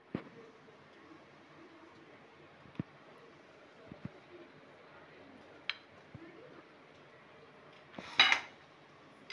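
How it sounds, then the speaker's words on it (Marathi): A utensil cuts through a cheesy rava breakfast in a nonstick pan, producing faint, sparse scrapes and taps against the pan, with a brighter metallic clatter near the end. "मी तुम्हाला कापून दाखवते."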